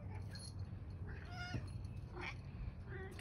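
A cat meows a few times, short plaintive cries over a low rumbling background, fairly quiet and close.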